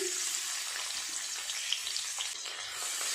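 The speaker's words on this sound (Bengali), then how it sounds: "তেলটা গরম হয়ে গেছে, দিয়ে দেবো পেঁয়াজ কুচি।" Chopped onion hits hot oil in a kadai, with some oil left over from frying fish, giving a steady, close, even sizzle that holds unbroken throughout with no talking.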